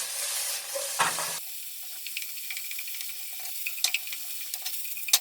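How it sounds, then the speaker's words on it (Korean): Fatty pork hind leg sizzles as it is stir-fried for jeyuk bokkeum, a steady frying hiss broken by a few scraping stirs and faint clinks; a brief louder rush comes early, then the sizzle continues alone. "최대한 볶아주셔야 됩니다. 마이야르가 일어날 수 있도록."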